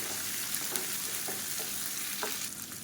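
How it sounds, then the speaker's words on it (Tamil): Onion and garlic sauté in a pan, a steady close frying sizzle with soft stirring scrapes and small clicks, and no voices. "இது எல்லாத்தையும் நல்லா வதக்கணும்"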